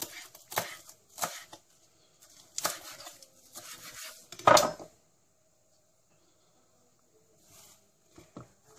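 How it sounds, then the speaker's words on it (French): A knife roughly chops celery on a cutting board for spaghetti bolognese, giving scattered close taps and short bursts of cuts, then a louder chop, a quiet pause and a few final light taps. "je coupe grossièrement"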